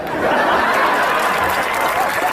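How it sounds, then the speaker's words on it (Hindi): Audience clapping at a Hindi stand-up comedy show, a steady dense wash of applause from a crowd, fairly loud and continuous throughout with a hint of murmuring. "इस पर ज्यादा ताली बजनी थी"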